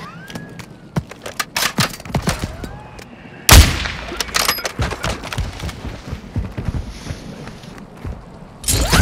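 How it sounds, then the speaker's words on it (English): Gunfire in the video game Call of Duty, a busy run of sharp shots and bursts, including a loud nearby blast partway through, with other shots further off and some footsteps and movement mixed in. "there's somebody shooting in there"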